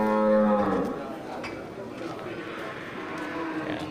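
A large Simmental cow at a livestock market lets out a deep, loud moo up close, followed by a noisy crowd murmuring in the background.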